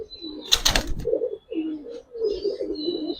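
Pigeons at a farm coo in repeated low, rolling calls close by, with a brief burst of wing flapping and a few faint chirps in between.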